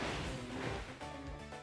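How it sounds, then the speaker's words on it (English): A rock bursting apart in Kirby and the Forgotten Land: a loud dense smash with crunchy debris and a brief whooshing tail, heard alone and close. "I'm exploding the rock"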